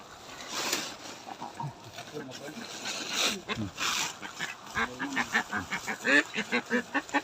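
A duck quacks in repeated short calls, sparse at first and then a quick rhythmic run near the end, mixed with people talking close by.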